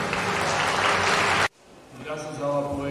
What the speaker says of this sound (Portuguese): uma salva de palmas para todos os atletas presentes aqui